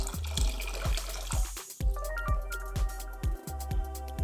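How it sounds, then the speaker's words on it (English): Water is poured into a bucket indoors over newspaper, making a steady splashing and gurgling flow with rhythmic glugging pulses, fairly close and continuous throughout. "So we add some water to the bucket."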